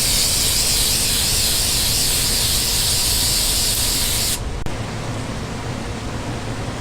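Herculiner bedliner spray-coated over a fiberglass shell on a rusty Buick Skylark, a loud continuous hiss that cuts off abruptly near the end, leaving quieter background noise.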